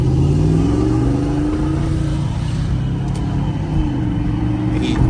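GMC OBS pickup truck with its engine droning loudly while driving, a deep steady rumble with shifting tones as the revs change, heard from inside the cab, with a faint voice briefly audible.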